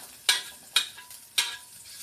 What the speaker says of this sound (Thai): ผัด ผัดหัวหอมหัวใหญ่นะคะ เคี่ยวน้ำมันหน่อย